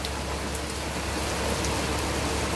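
Steady rain falling and pattering on surfaces during a visit around Cebu in the Philippines, a dense, unbroken hiss with no pauses and no voices.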